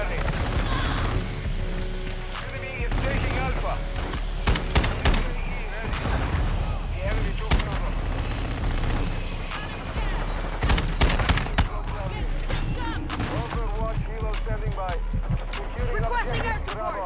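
Dense, continuous gunfire and explosions from a Call of Duty: Modern Warfare II match, with rapid bursts and booms layered throughout, while players talk over the action.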